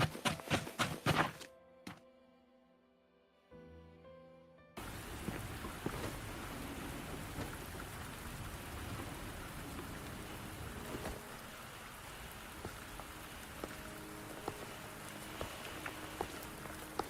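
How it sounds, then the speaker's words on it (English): Steady rain pours down in the game Wuthering Waves, with a dense hiss of falling water and occasional soft thunks over it, after a brief quieter gap near the start. "Are you trapped here by the rain?"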